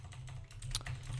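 Code for a Bukkit Minecraft plugin is typed on a computer keyboard: a quick, close run of soft key clicks with no talking.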